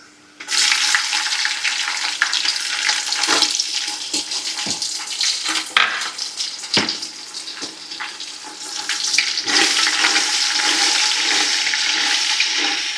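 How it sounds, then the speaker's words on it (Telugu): Cashews and soy chunks (meal maker) frying in a pan for vegetable biryani, a steady loud hiss of oil with occasional sharp crackles and stirring clatter, no talking. "జీడిపప్పు వేస్తున్నాను ఇది మిల్మేకరు"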